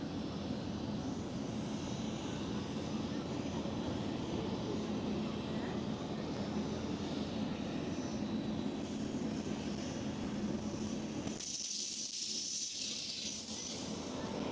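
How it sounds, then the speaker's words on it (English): A British Airways airliner rolls for takeoff at Amsterdam Schiphol, a steady broadband engine roar heard from a distance that holds constant, then briefly dips and resumes near the end. "Oh, the British Airways is rolling already."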